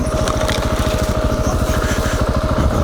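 A KTM 690 Enduro single-cylinder motorcycle engine running loud and close while the bike turns around, a steady low rhythmic thumping throb that holds evenly throughout with no speech over it.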